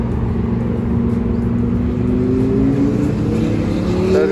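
Chevrolet cruising past at the Woodward classic car cruise in Detroit, a loud, close engine rumble with rising pitch as it goes by, steady and alone.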